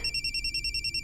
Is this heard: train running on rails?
no